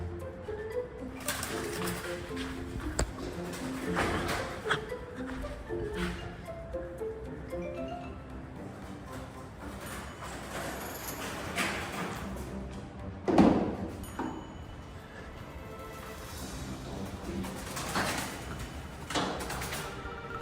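Pigeons coo repeatedly inside a steel frame building under construction, mixed with scattered thumps, a louder knock and echoing site noise over about twenty seconds.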